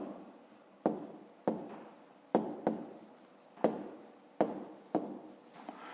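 Hand writing while working through a fifth-grade maths exercise: close, steady scratching of a writing tool on paper, broken into short strokes with about eight sharp onsets where each new stroke begins, with no voice present.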